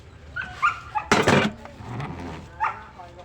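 A pet dog gives a few short barks and yips, close and fairly loud, with one burst of rough noise in the middle and a brief whimpering note near the end.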